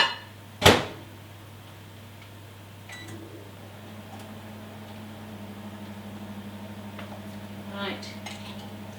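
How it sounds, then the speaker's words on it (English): A microwave oven runs with a steady low hum while reheating a bowl of melted chocolate, after a sharp door clunk at the start, with a faint chime-like tone near the end. "I'm just going to put this back into the microwave for a few seconds"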